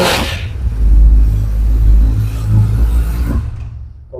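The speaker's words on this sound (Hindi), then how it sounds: "उसके बाद में आप मोटरसाइकिल थोड़ा सा रेव कर सकते हैं" A Kawasaki Ninja 300 motorcycle engine rumbling nearby, rising into a couple of revs before settling and cutting off.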